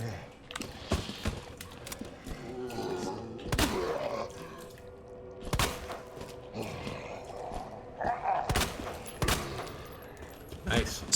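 Handgun shots fired in the survival horror game Resident Evil 2, a run of sharp, separate cracks spaced a second or two apart over game ambience, with quiet clatter between them.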